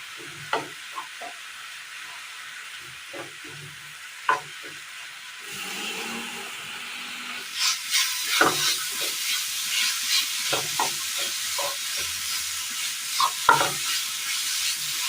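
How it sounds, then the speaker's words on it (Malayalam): Melted jaggery with banana and coconut is stirred in a pan, a spoon scraping and knocking in uneven strokes over a soft bubbling sizzle that grows louder partway through, close and without speech. "നന്നായി ഇളക്കി കൊടുക്കാം"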